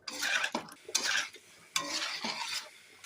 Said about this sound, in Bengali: এঁচোড়টা ভালো করে কষিয়ে নিচ্ছি।